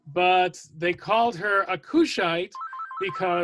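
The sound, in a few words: telephone ringing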